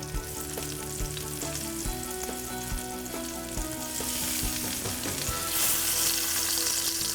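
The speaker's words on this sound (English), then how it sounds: "We're going to give this a quick minute, maybe 2 minutes in the frying pan. The sizzle is amazing." Pork tenderloin sizzles and crackles loudly in a hot frying pan, a dense, continuous hiss with small pops, growing slightly louder toward the end over quiet background music.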